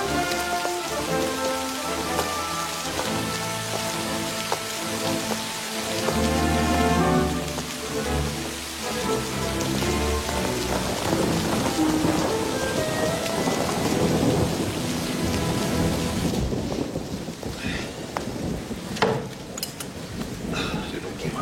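A heavy downpour drums steadily on surfaces while deep thunder rolls through, loud and sustained, with music and a few voices woven underneath.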